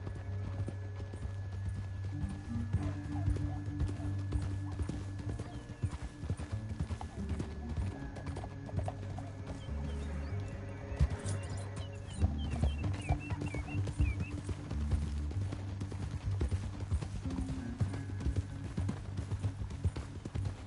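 Horse hooves clip-clop at a steady trot in the video game Red Dead Redemption 2, a continuous rhythmic clatter heard over low background music, with a brief whinny partway through.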